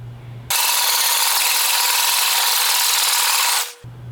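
A homemade miter saw built from a pallet and driven by a drill cuts loudly for about three seconds, a dense steady whine with a rasping edge, then stops abruptly, with low hum before and after.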